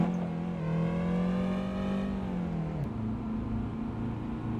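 Honda S2000 engine revving in the truck-driving game Euro Truck Simulator 2: a loud, steady engine note climbs in pitch, then drops sharply at a gear change and carries on at a lower drone, with no talking.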